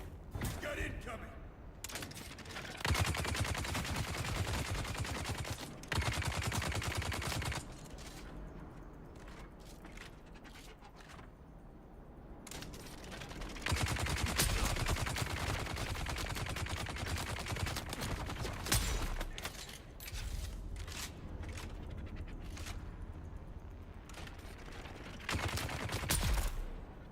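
Gunfire in the Dune: Awakening video game, bursts of rapid mechanical shots in several loud stretches separated by quieter gaps, with voices talking over parts of it.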